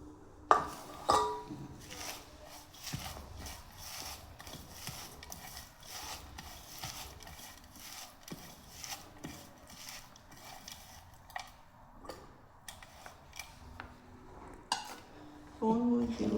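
Boiled mashed potatoes are worked together into a Bengali bhorta, giving soft rubbing and squishing sounds with occasional clicks of utensils against a dish, intermittent and close, with some quiet background noise.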